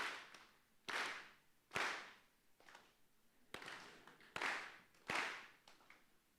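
An audience in a TEDx talk hall claps in unison, producing six or seven sharp, loud group claps spaced irregularly about a second apart, each with a brief room echo and no talking.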